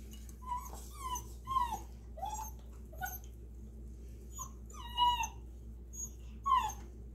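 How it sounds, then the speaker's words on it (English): A puppy whimpers while chewing a bone, a series of short, high whines and yips, spaced irregularly over a quiet background hum. "The puppy next door is chewing on his bone while he's crying."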